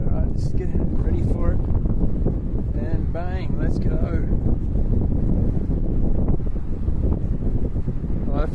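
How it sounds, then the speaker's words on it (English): Strong gust of wind roars over a hydrofoil rider at Pittwater, a loud, steady buffeting rush of wind noise on the microphone with water hiss beneath, while a voice talks briefly over it. "Good gust coming up"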